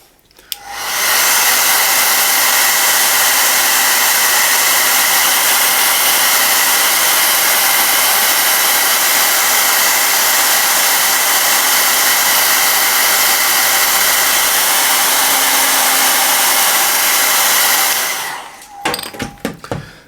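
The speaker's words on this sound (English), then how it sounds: "It's a wash layer, so I want to force this with the hairdryer" A hair dryer blows a continuous, loud, even roar for about seventeen seconds as it force-dries a wash layer of paint on a model metal surface, then clicks off, with no talk.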